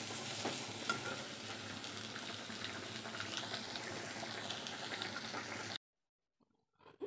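Home cooking of a fish and baby potato curry in a pan, stirred and fried: continuous close sizzling with soft scrapes and occasional knocks of a spoon, cutting off abruptly into near silence near the end.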